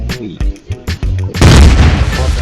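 An ultimate skill shot fired by Yorn in the mobile game ROV: a few punchy, loud game effects and a voice, then a heavy booming blast that fills the last second.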